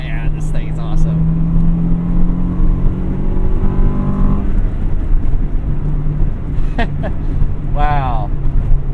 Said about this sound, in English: The Acura Integra Type R, it's such a cool car.